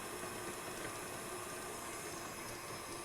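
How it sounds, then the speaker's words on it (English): A stand mixer with a paddle attachment creams butter and granulated sugar on low speed, giving a steady, quiet motor whir and hum with no pauses or talk. "Lower the mixer with its paddle attachment, and on low speed, combine granulated sugar or sugars, whichever sugars you're using, with that butter."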